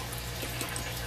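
Water pours steadily into a bowl of curing salt and jerky spice mix, a short continuous splashing trickle at close range.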